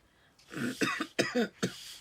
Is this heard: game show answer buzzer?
no